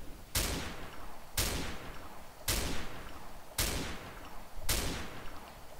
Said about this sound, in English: we already all know that it's a one-shot kill sniper rifle